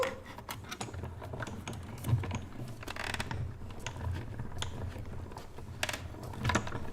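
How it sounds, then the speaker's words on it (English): Metal plates are cranked through a hand-cranked craft machine, its gears ratcheting in a steady clicking run with a few louder clunks, close and fairly quiet, with no talk. "grab my other plate I'm going to crank this right through."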